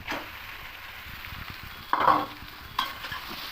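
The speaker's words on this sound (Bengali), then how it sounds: "এবার এখানে সেদ্ধ করা পাস্তাগুলো দিয়ে দেবো" Boiled pasta goes into a frying pan and is stirred, a soft low sizzle broken by a few scraping, clattering stirring strokes at close range.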